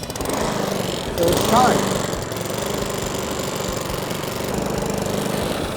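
A brand-new Cobra M40C petrol lawn mower runs right after being pull-started, with a close, steady, loud engine drone. A brief voice cuts in over it early on.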